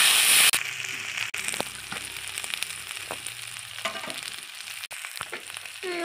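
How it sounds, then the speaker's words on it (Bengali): Rice frying in a pan with a ginger, cumin and green chili paste, a steady close sizzle with scattered scraping and tapping from stirring, and a few brief sharp knocks. "ভেজে রাখা চালটা দিয়ে ভেজে নিচ্ছে। আদা জিরা কাঁচা লঙ্কা বেটে রেখেছিল সেটা দিয়ে দিয়েছে, দিয়ে নাড়িয়ে নিচ্ছে।"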